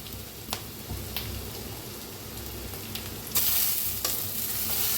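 Tomatoes and brinjal fry in a pan with a soft, steady sizzle, while a few scrapes of the stirring spoon stand out and the hiss briefly swells louder near the end.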